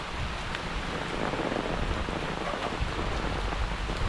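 Steady rain pouring down outdoors in India, a dense continuous hiss with drops pattering on surfaces, loud and close throughout with no voices.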